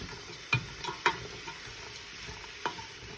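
Chopped onions going into a pot for homemade vegetable soup, giving a few soft scattered clatters and light sizzling over a quiet background hum, no talk.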